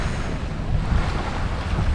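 Sailboat running under open sail, with loud gusting wind buffeting the microphone and waves washing against the hull in a continuous, uneven rumble, close and with no voices.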